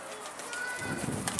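A pigeon coos softly in a low, rounded burst toward the end, near but faint, over quiet background murmur.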